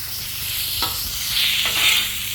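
Hot peppers cook on a Blackstone griddle for sweet heat sloppy joes, a continuous loud sizzle broken by a couple of brief scraping tosses.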